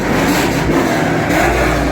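A white Dodge Charger with an aftermarket exhaust pipe revs loudly and close by, a continuous rough engine roar with slight swells in pitch, and nobody talking.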